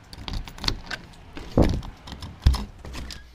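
Keys jangle in short bursts at a motel room door, with two sharper metallic clinks and a low clunk standing out against a steady background of small rattles.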